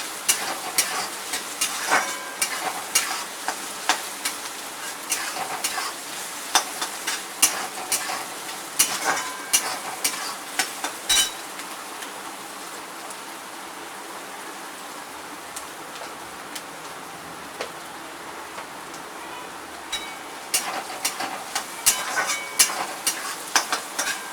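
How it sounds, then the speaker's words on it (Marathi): Chopped onion sizzles and crackles steadily in hot oil in a pan while being fried until reddish-brown for a dried-fish sukat dish, with sharp spatula scrapes and stirring clicks scattered throughout, close and moderately loud. "लालसर असा चांगला कांदा भाजायचा."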